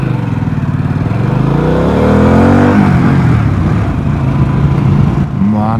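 A Harley-Davidson Pan America 1250 Special motorcycle engine revs loud and close, climbing in pitch as it accelerates, then settles into a rough, throbbing rumble that briefly dips near the end.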